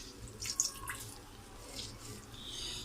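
Water dripping and trickling from a turmeric-dyed old shirt being wrung out by hand, with a few soft, faint splashes and drips over a quiet background.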